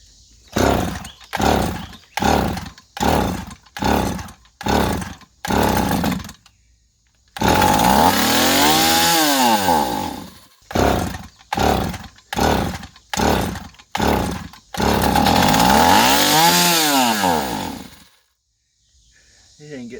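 A Stihl 028 chainsaw with a freshly rebuilt carburetor kit runs in short bursts, first a rapid series of choppy revs, then two long roaring throttle swells, then more quick bursts before it cuts out. Loud and close, no talking.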